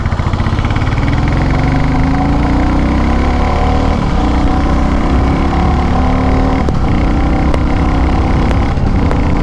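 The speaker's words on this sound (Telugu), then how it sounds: "ఇప్పుడు ఎగ్జాస్ట్ సౌండ్ అయితే వినండి." Royal Enfield Classic 350 motorcycle engine rated at 27 Nm of torque, running steadily with a loud, close exhaust thrum that swells slightly in pitch, and a few sharp ticks near the end.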